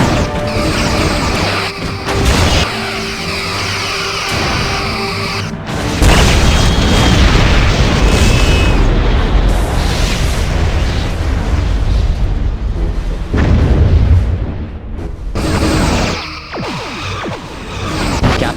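Torpedoes fire and explode in the Star Trek Bridge Commander space combat game: heavy, loud crashing booms in repeated bursts over a dense rumbling battle din, with no speech.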